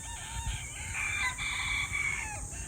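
Farm chickens, including freshly bathed young pullets and chicks, cluck busily while a rooster crows loudly and nearby, and the calls overlap continuously with no talking.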